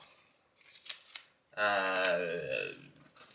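Protective skin peeled off a Razer Phone 2, a few soft clicks and taps followed by a close, steady tearing peel lasting about a second and a half, fading quietly afterward.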